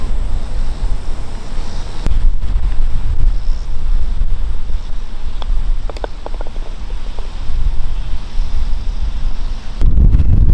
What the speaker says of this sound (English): this wind is really stiff